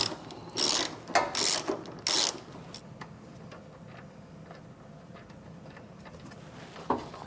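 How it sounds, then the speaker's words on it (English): Several short bursts of ratcheting from a 15mm ratcheting wrench backing off trailer hitch mounting nuts on a 2023 Cadillac XT4, loud and close in the first few seconds, then quieter shop ambience with one brief click near the end. "you might want to grab a ratcheting 15mm wrench"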